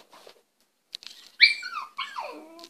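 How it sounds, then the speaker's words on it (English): A jealous miniature pinscher whimpers outside the house, a string of high, wavering whines and yips rising and falling, fairly close and with no talk over it. "There is a jealous dog outside."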